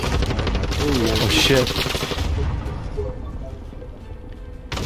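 Rapid automatic gunfire from an enemy player in a multiplayer shooter game, loud dense bursts that fade toward the end, with a player's startled voice over it.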